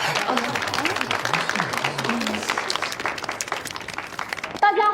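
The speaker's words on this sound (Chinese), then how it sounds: "接下来让我们掌声有请具有冰雪女王之称的著名画家文献闪亮登场。" Audience applause at a product launch event, a steady wash of clapping from a crowd lasting several seconds, with a voice speaking over it and a brief musical sting near the end.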